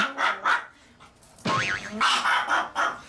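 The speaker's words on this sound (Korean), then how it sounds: "누가 왔길래 이렇게 짖고 그래?" A Maltese dog barks at a visitor indoors with a burst of sharp, close barks, then a rising whining yelp, then more rapid barks in quick succession.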